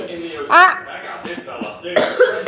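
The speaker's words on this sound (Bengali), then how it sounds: "দেখেছিস কাশি হয়েছে, একটু ওষুধ খেয়ে নে" A sick child gives two short coughs, close by, mixed in with nearby talk.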